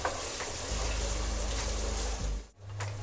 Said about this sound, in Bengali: পেঁয়াজটাকে আমি এখন একটু লাল করে নেব।